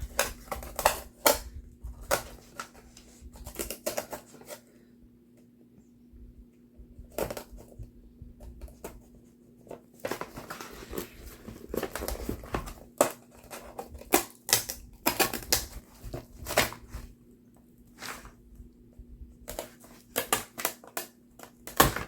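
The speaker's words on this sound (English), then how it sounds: "Or I'll cut this. Cut the webbing again." Book webbing cut close up during book binding, heard as a string of sharp snips and clicks in irregular bursts separated by quiet pauses, over a low steady hum.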